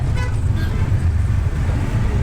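Road traffic on OMR Road, a steady low rumble of passing cars and heavier vehicles with a faint horn toot, continuous and close throughout the short stretch.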